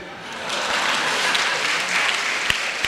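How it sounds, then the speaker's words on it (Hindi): Audience applause fills a Hindi comedy poetry show, a steady dense clapping from a large crowd throughout, with a couple of sharper individual claps standing out near the end. "मजा आ जाए तो ताली बजाना"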